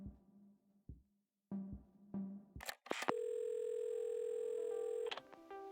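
A telephone in the video game Assemble with Care: a few low clicks and handset knocks, then a steady dial tone holds for about two seconds before cutting off, clear and close with no talking.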